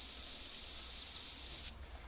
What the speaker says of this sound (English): We're going to go ahead and use the spray again.